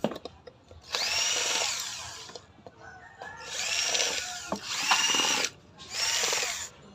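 A power tool whirs in four separate bursts as it backs Allen bolts out of an e-bike hub motor, close and fairly loud, with short quiet gaps and faint clicks between runs.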